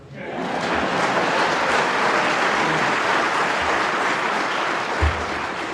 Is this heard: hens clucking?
no